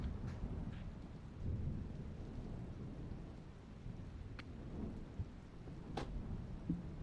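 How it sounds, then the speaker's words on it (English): Steady rain outside with low, rolling thunder rumbling underneath, a faint continuous wash of storm noise broken by a few soft taps and clicks. "you can hear the rain outside and the thunder as the clouds darken"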